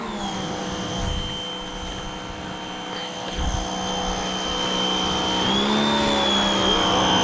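A Lavora high-pressure washer rated at 180 bar runs close by with a steady, loud motor whine and a rushing hiss. Its pitch rises slightly near the end.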